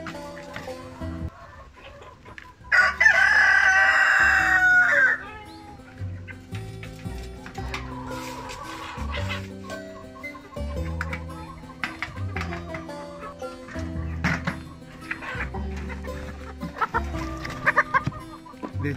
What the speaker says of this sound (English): So now I'm feeding the chicken.